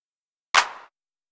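A single mono clap sample plays once in LMMS, one sharp, bright snap with a short decaying tail, alone against silence.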